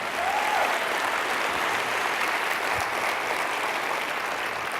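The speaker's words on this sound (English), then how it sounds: "Give them a round of applause," A keynote audience applauds, a dense, even wash of clapping that holds steady from start to finish.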